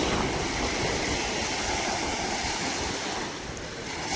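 Sea waves at a fishing shore break and wash in a steady, loud roar of surf, continuous and close, with no voices over it.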